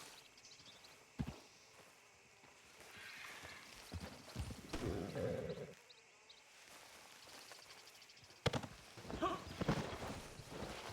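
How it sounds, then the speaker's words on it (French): Horse hooves clip-clopping in a western video game, with occasional whinnies and sharp knocks over a windy outdoor background, fairly close and without speech. "mon cheval il veut pas venir"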